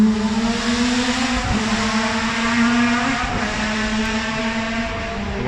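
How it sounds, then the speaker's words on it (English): A 1957 Porsche diesel tractor engine runs at a steady idle, a close, even droning hum with a low throb and a couple of brief knocks, no voices over it. "A diesel Porsche tractor."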